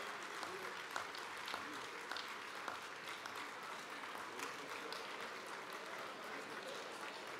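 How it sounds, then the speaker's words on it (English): Faint, distant applause from a standing audience at a Democratic Party gathering, a thin steady patter of many hands with occasional louder claps, sustained throughout. "Please stand and give yourselves a round of applause"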